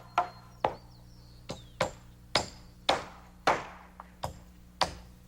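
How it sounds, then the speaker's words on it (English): Hammer blows driving nails through wooden rafters into a ceiling joist during timber roof framing: about eleven sharp, ringing strikes in an uneven rhythm, close and fairly loud, with no talk. "nails his end to a ceiling joist, and the same on the other side"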